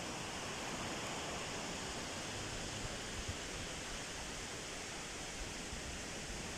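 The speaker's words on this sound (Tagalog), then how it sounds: "Yan ang karagatan mga idol oh." Ocean waves at Baler make a continuous, even roar of surf. The wash is moderately distant and steady, with no distinct breaking crashes and no talk.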